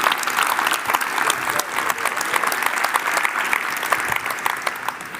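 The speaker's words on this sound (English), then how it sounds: "Let's just give a warm round of applause for that." A conference audience at the WorldSkills closing plenary applauds, dense sustained clapping from many hands that fills the hall for several seconds.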